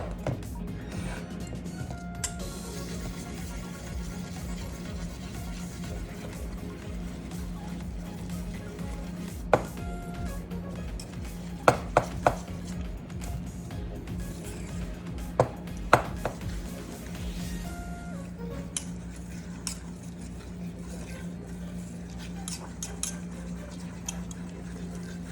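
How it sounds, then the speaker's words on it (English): A metal whisk beats pumpkin banana bread batter in a bowl, a steady fast scraping and tapping rhythm with occasional sharper clinks against the bowl, close and continuous over a low hum. "I'm just gonna whisk all of this together."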